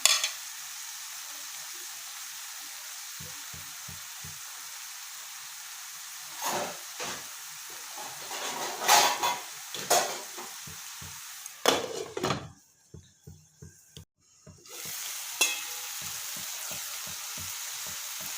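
Spinach and tomatoes, half-fried for a paneer dish, sizzle steadily in a pan while a spoon scrapes and stirs in irregular bursts, with no voices.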